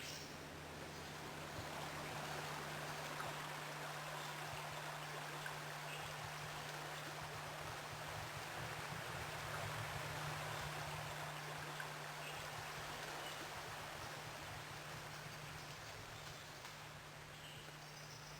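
Steady broadband rush of water from streams flowing through a Queensland rainforest park, continuous and even in level for the whole stretch, with a low constant hum underneath and no voices.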